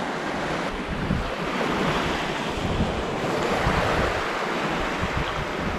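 Surf washes ashore at Camp Bay Beach on Roatan, Honduras, in a steady broadband roar mixed with heavy wind buffeting the microphone, loud and continuous, with no talk.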